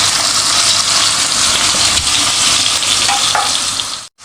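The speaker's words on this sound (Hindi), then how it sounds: "इस तरह आप आराम से फ्राई कर लें। कम ऑयल जाएगा इसके अंदर" Beef seekh kebabs fry over low heat in a little oil, a loud, dense, continuous sizzle that cuts off abruptly at the end.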